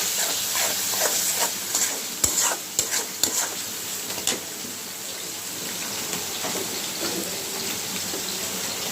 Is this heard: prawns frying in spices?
yes